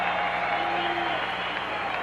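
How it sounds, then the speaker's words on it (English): A steady wash of crowd applause fills an arena at a 1988 Major Indoor Lacrosse League game, Washington at Philadelphia, as a dense, even roar that holds for the whole moment. "all that yields is a round of applause for Vinny Pfeiffer"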